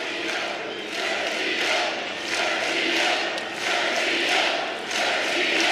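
A college wrestling crowd cheers and chants for Sergio Desiante of Virginia Tech during overtime against NC State, rising and falling in repeated rhythmic surges, loud and continuous.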